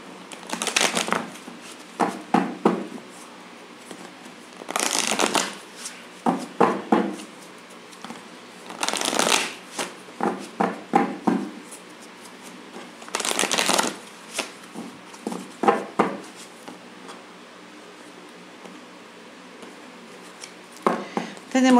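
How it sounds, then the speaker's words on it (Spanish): Tarot cards are shuffled repeatedly in close, crisp riffling bursts, separated by brief pauses and lighter handling sounds. "Vamos a barajar nuestro tarot del corazón."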